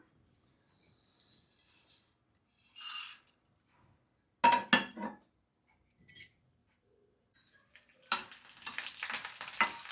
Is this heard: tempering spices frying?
yes